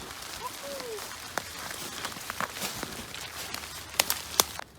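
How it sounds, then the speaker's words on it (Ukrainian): Steady light winter rain pattering on surfaces outdoors, with scattered sharper drips and a few soft rustling sounds nearby. "Попали під зимній дощ."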